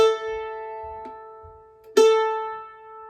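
A single sustained viola A-string note rings steadily, fades, then is sounded again strongly near the end, with faint low thumps in between.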